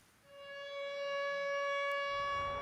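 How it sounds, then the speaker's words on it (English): Outdoor tornado warning siren of a community warning system, a steady wailing tone with rich harmonics that rises in and holds loud and sustained, heard alone with no talk. "Sirens. They're part of the outdoor warning system"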